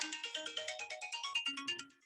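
A cell phone ringtone plays a quick, bright melodic pattern of repeating electronic notes, clear and close, cutting off after about two seconds with no talking over it.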